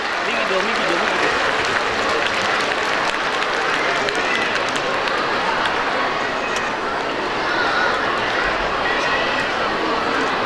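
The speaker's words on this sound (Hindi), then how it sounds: "भरपूर तालियां।" An audience at a school's 25th anniversary silver jubilee convention in Islamabad applauds steadily for about ten seconds, a dense wash of clapping with crowd noise and voices mixed in.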